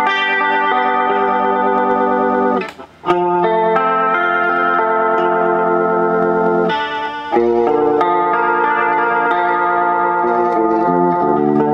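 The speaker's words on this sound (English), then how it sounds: "Get a chorus sound from this pedal by turn off the in-hinge and turn speed at maximum" An electric guitar runs through an Ibanez Airplane Flanger AF-2 pedal set for a chorus sound, giving sustained, shimmering chords with a brief drop-out partway through, loud and alone.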